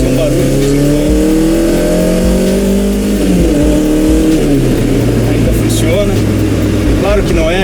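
A Passat GTS Pointer with dual Weber 40 carburetors and an aggressive camshaft revs loudly up close, its engine note climbing and falling through several throttle blips, with a voice talking over it.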